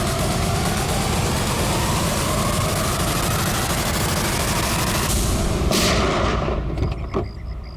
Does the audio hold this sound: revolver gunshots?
yes